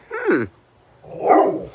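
Dogs bark at another dog being walked across the street: two short, sharp outbursts about a second apart, fairly close, with quiet between them.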